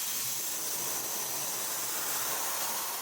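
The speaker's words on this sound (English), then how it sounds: "So I'll blow down in here with compressed air one more time and just make sure that this area is dry." Compressed air blows into the engine intake area of a 2002 Ford Ranger during a thermostat replacement, a soft, continuous hiss held evenly for a few seconds with no talk.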